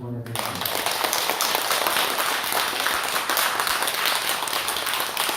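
An audience at a Buddhist Lotus Sutra assembly claps in thanks for a monk, with steady, dense applause rising right after a brief spoken word and continuing evenly.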